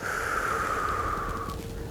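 A slow, steady inhalation through the nose during a relaxation exercise for headaches, heard as one continuous airy breath lasting nearly two seconds, close and fairly loud with no talking over it.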